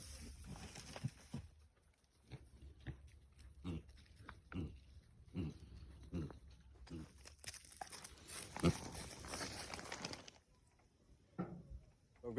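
A pig snuffling and rooting through fresh bedding nearby, soft irregular rustles and crunches with occasional grunts, quiet and close, with a brief louder rustling burst in the middle.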